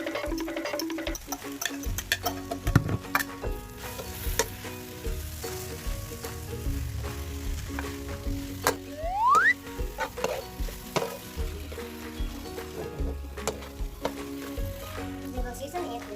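Pork frying in a pan at home, a steady crackling sizzle with occasional stirring clatter and faint background music and voices under it.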